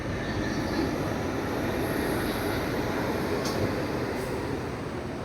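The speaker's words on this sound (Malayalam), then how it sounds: "ഇതാണ് നമ്മുടെ ലോക്കോ വരുന്നത്" A WAP7 electric locomotive approaches at a station, producing a continuous, loud, broad rumble with faint higher whines and brief squeals drifting in.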